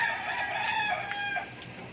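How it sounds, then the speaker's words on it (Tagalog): Chickens clucking and a rooster crowing nearby at their roost, several overlapping bird calls against a quiet background. "nandito tayo ngayon sa pubo ng ating mga alagang mga manok"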